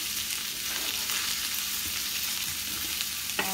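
Peas and carrots for shepherd's pie simmer and sizzle in a pan, a steady crackling hiss close by with a brief clink near the end, no voices.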